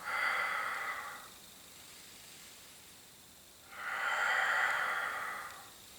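A person breathes slowly in and out during a Pilates floor exercise: two long, close, breathy airflows separated by a quiet pause, with no talking.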